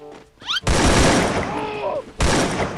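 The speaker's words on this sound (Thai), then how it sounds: "พี่ดูเอฟเฟกต์เวลายิงนะ" Gunfire effects in the Free Fire battle-royale game sound as loud, dense bursts of shots that fill most of the clip, with a short break near the end before firing resumes, and faint voices underneath.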